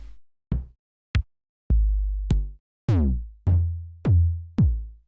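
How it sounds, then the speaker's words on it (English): A sequence of nine kick drum samples from an FL Studio drum kit plays one after another, each a punchy, booming bass drum hit with a quick attack and decaying low tail, separated by short silences, with no voices. "Kick is your bass drum or heavy sounding drum, which sounds like this."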